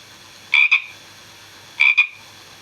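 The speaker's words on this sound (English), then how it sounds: "Frogs are jumpers just like us." Two short double-pulsed frog croaks, spaced about a second apart, ring out clearly against a quiet woodland background in a children's nature-trail story.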